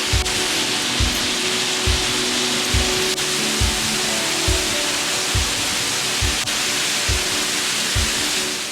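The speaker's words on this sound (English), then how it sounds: "The lower falls are the most famous out of the 2 waterfalls on Calf Creek." Lower Calf Creek Falls, a 130-foot waterfall, pours in a loud, steady broadband roar, with a regular thumping beat underneath, heard close and alone without talk.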